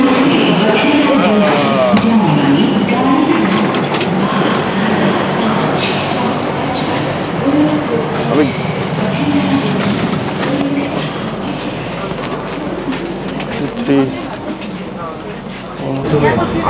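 Train running on the rails on the Delhi to Haridwar route, a constant rumble with rattling carriage noise through the whole stretch, heard from inside with voices of people talking over it.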